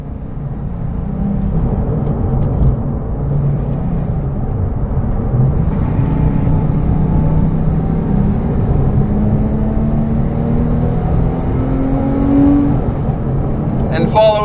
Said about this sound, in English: The intake's almost as intoxicating as the exhaust note.